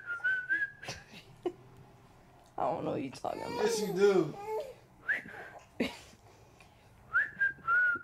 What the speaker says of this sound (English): Yo, keep doing that whistle.